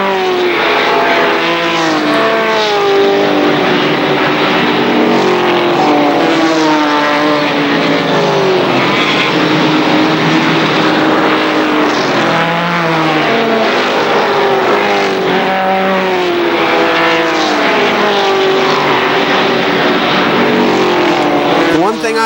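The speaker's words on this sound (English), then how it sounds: "as you can hear the cars, the engines roaring around" ARCA SuperCar race cars at KilKare Speedway roar around turn 2, their engines droning loud and continuous with rising and falling pitch as cars pass, under steady commentary from an announcer.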